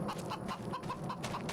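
Chickens cluck in a coop, a steady run of short, close clucks repeating every fraction of a second over a dense background hum.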